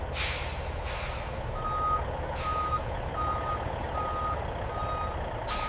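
A truck reverses into a factory loading dock with a steady run of reversing beeps over the low rumble of its engine, and bursts of air-brake hiss at the start, middle and end.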